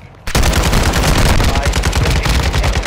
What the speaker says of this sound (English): Oh, it's an SMG.